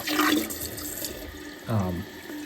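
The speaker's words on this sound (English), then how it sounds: "the excess water just drains out the bottom" Water runs and splashes while a Kohler toilet tank refills through its fill valve, a steady close hiss with a louder gush of flow partway through, no talking.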